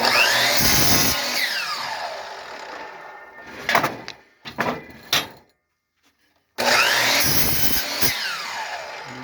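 A power saw cuts through lumber boards being trimmed for pallets, two loud sustained cutting passes with a brief clatter of wood handling and a silent pause between them.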